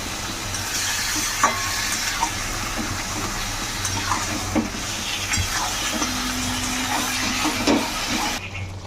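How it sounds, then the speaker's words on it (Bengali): Marinated mutton pieces sizzling and frying in spices for a mutton gravy, with a steady close hiss and occasional scrape and knock of the spoon as it is stirred. "আর মাংসটাও ভালো করে এর সঙ্গে এবার কষবো।"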